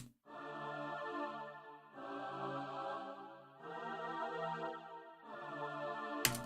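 A sampled choir sings four sustained chords in sequence, each held for over a second with brief breaks between, clear and alone at a soft level.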